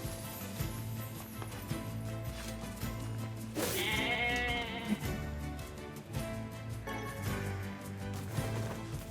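Sheep in the video game NieR Replicant bleat several times over background game music and effects, including one louder, prominent bleat midway.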